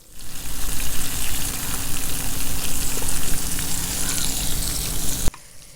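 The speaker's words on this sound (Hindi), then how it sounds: "अब हम टमाटर जो हैं इनको भी ऑयल के अंदर अच्छी तरह भून लेंगे।" Tomatoes frying in hot oil alongside chicken on a tawa, a steady loud sizzle running continuously for several seconds before cutting off abruptly near the end.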